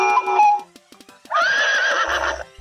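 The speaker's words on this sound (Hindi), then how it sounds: "ये तो घोड़े की आवाज ही है।" A horse whinnies loudly and alone, a high wavering neigh that rises and trails off, with a few soft clicks in between.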